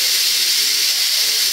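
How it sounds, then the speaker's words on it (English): Steam hisses steadily and loudly from the pressure release valve of a Power Pressure Cooker XL, a continuous bright rush with no break and no talking. "And that's gonna release the steam."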